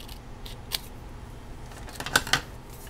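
Scissors snipping paper for a vintage mixed media journal, a few short, crisp cuts near the mic, one around the middle and a quick pair toward the end, over faint room hiss.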